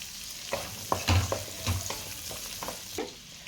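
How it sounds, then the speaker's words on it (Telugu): Onions frying in a pan of oil with melting butter for butter chicken, with a soft steady sizzle and several irregular scraping stirs of a spoon, fairly close, no voices. "ఇప్పుడు ఆనియన్ చేసేస్తాను. బటర్ కరిగిపోతుంది దీంట్లోనే."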